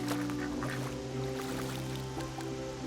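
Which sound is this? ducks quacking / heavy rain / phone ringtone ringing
ducks quacking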